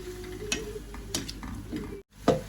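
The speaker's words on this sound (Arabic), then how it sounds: "بس نقلي شوي اللحمة" Beef browning in a hot pan on a gas stove while Syrian shishbarak is prepared, giving a steady soft sizzle with occasional stirring clicks and scrapes, close and moderate in loudness, with a brief gap near the end.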